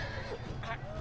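Horses neigh in the Telltale Game of Thrones video game, a short whinny rising over a steady low rumble of game noise and background chatter.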